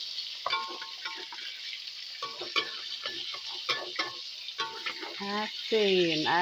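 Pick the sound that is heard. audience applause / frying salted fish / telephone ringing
frying salted fish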